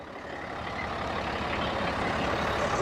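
A 2003 Peterbilt trash truck with a packer body and Caterpillar C10 diesel runs nearby, a steady engine drone with broadband rumble that builds slightly louder over the stretch, with no talk.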